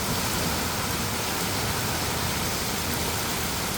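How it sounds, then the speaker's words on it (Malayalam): Heavy rain pouring steadily during a downpour in the UAE, a dense, even roar of water hitting roads and surfaces with no breaks, loud and continuous throughout. "അടിപൊളി ആയിട്ട് മഴ, വെള്ളം ഇതാ പെട്ടെന്ന് കൂടി എല്ലായിടത്തും."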